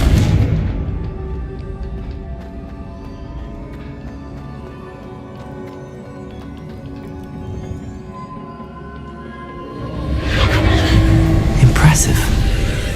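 A Confringo fire spell in Hogwarts Legacy bursts out as a loud, rumbling blast near the end, after a stretch of quieter background sound.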